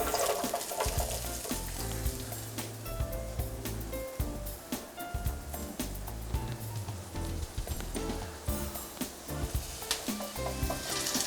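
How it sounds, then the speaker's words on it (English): Potatoes sizzle in olive oil on a hot grill, a dense, steady crackle and hiss that is loud and continuous throughout, with scraping and stirring knocks mixed in. "We're going to add to this our potatoes, but I also have a little olive oil on here."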